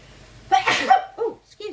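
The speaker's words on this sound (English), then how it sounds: "Forgive me for the sneezing." A single close sneeze indoors in a home kitchen during cooking, a sharp burst followed by a couple of short breathy vocal sounds.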